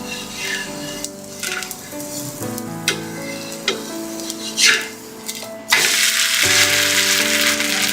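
A bottle gourd adai frying on a pan, crackling and sizzling with sharp metallic clicks and scrapes as it is flipped, then a louder burst of sizzle once it lands.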